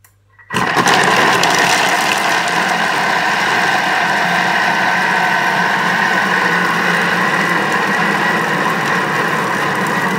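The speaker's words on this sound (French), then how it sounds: "Donc là, j'ai mon beurre, ma farine, mon vin blanc. Et je vais mixer 12 secondes, vitesse 6." A Thermomix food processor blends butter, flour and white wine at speed 6, starting abruptly after a brief silence and then holding a loud, steady mechanical whir with no talking.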